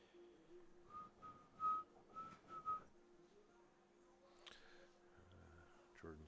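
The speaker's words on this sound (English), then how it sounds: "just doing a little whistling there" A person whistles a short melodic tune close to a live microphone during an 8-ball pool match broadcast, with a few clear notes, then a quieter held tone over faint room sound.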